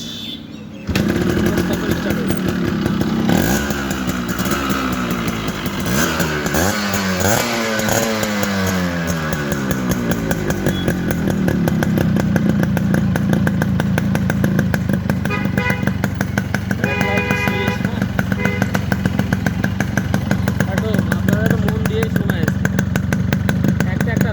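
A Yamaha RX 100 motorcycle starts and settles into a steady, loud two-stroke idle with rhythmic buzzing pulses, revving a little early on, close by, as someone talks over it.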